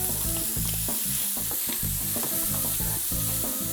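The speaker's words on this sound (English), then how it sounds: "we're gonna use this to deglaze some of those brown bits" Red wine hits a hot pan holding bacon and onions, raising a loud, constant sizzle with rhythmic stirring scrapes throughout and no one talking.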